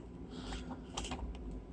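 Clicks and rattles of the plastic fold-out feet being flipped out on the underside of a Fantech Pantheon MK871 RGB TKL mechanical keyboard, a few quiet plastic snaps alone with low background hum.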